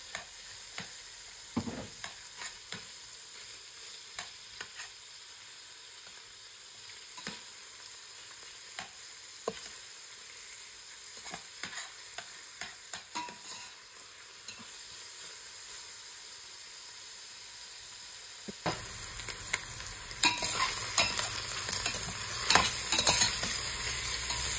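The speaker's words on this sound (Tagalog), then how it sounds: "Pagsasamahin ko na sila. Bawang at saka sibuyas." Garlic and onion sauté in oil for mung beans, a soft continuous sizzle with scattered stirring scrapes that brightens and grows louder in the final seconds, close and alone without speech.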